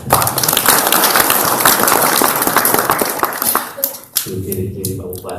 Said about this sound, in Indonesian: Tepuk tangan Pak Bupati.